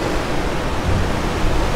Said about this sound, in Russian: Блин, так вода стучит